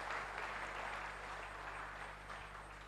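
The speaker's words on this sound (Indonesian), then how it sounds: "Tepuk tangan buat Yang Mulia Bante Utama Mahathera." Steady applause from an audience at a talk on living and dying well by Bhante Uttamo, faint and distant with a low constant hum beneath it.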